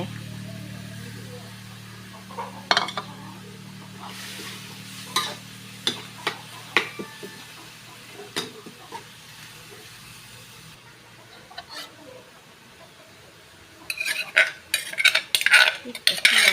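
Field bird and holy basil stir-fried in a pan, with scraping stirs, clinks of a utensil and a light sizzle, steady over a low hum and growing louder and busier near the end.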